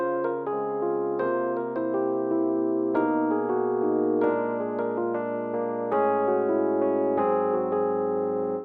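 A keyboard plays the jazzy bridge of the song, a steady sequence of sustained chords changing about every second and a half over a held bass, clear and alone.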